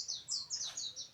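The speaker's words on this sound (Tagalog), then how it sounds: "Ang ibon, no?" Native birds chirping in quick repeated bursts of high, thin tweets, fairly faint, with a soft background hiss and no talking.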